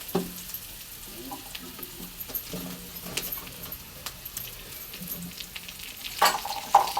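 Leafy greens, saag such as poi and khada saag, frying old-style in a pan, a steady close sizzle with occasional stirring scrapes and a few sharper clinks near the end.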